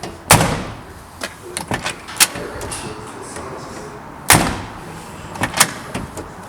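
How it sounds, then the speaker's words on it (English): All-original 1963 Chevrolet Impala doors closing, two sharp near slams about four seconds apart amid smaller clicks and latch knocks. "Check out the door closes."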